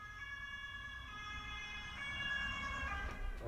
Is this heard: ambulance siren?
yes